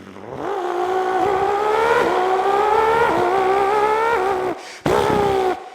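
A Porsche GT4 RS howls past in a loud flyby, its engine note climbing steadily through several gear pulls, with a sharp brief break before it surges again.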